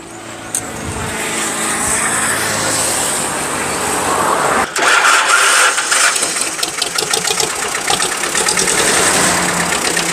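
A Thai Champ 30-horsepower four-wheel-drive tractor engine cranks and catches, then settles into a loud, close, rattling idle, with some traffic-like noise in the background.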